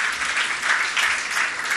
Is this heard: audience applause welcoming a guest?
yes